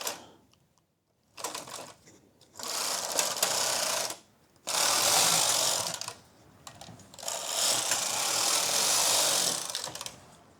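Knitting machine carriage swept back and forth across the needle bed while knitting striped sweater fabric: three long, loud mechanical runs of whirring, ratcheting clatter, separated by brief pauses, with no voices.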